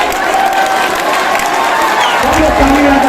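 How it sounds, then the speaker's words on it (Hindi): A large outdoor crowd applauds and cheers to welcome the state chief minister at a public event, loud continuous clapping with shouts, and an announcer's voice carrying over it through a PA. "सब लोग ताली बजाकर स्वागत करेंगे।"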